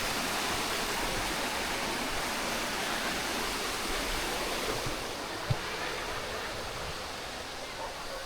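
A river flows near Marilag Falls at the eco park in Santa Maria, Laguna, a steady, even rushing wash of water heard continuously at moderate distance, with a brief faint knock partway through.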